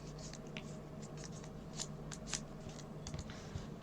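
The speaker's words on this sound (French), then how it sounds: "Et je viens couper le dernier petit morceau jusqu'au pli." Scissors snipping through folded paper while making a festive table decoration, a steady run of soft crisp cuts and rustles close by, quiet and without speech.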